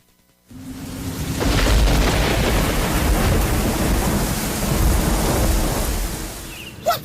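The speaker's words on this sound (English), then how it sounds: "That storm was real bad." Heavy thunderstorm rain, a dense steady roar of downpour with low rumbling thunder rolling underneath, starting abruptly after a brief quiet and holding loud throughout before a sharp knock near the end.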